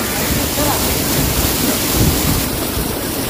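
Heavy flowing water at Neer Waterfall in Rishikesh roars as a dense, constant hiss, loud and near with no pause.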